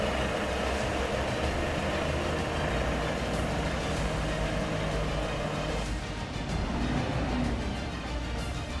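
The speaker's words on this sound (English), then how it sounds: "A specialized truck tractor arrives and the rigging team gets to work." A heavy specialized truck tractor rumbles loudly on arrival for hauling a Liebherr PR 776 dozer, its deep engine drone continuous and close, with a gear or pitch shift near the end.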